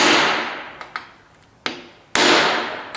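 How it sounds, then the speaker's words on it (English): A hammer taps a metal center punch with a few sharp metallic taps at uneven intervals, close by, with a couple of louder strikes standing out. "when you guys are using a center punch, when you're trying to set this, don't beat the heck out of that thing"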